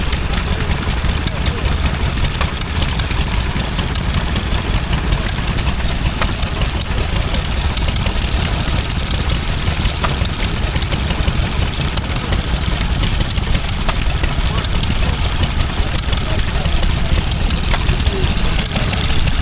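A Wolseley stationary engine drives a Compactum double-acting water pump at a rural show, chugging steadily and loudly up close for the whole stretch, with a faint regular knock in its running.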